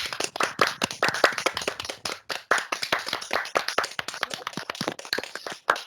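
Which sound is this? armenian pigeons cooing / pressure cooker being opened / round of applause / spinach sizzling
round of applause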